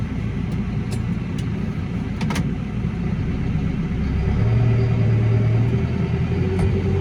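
Tractor-mounted crop sprayer running over a wheat field, a steady low engine rumble and hum that stays close and constant throughout, with a few faint clicks on top.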